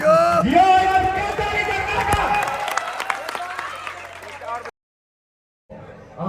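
Applause from the audience at a Maithili village children's program mixes with amplified tonal voice or music, running loud for several seconds before cutting to silence and then resuming.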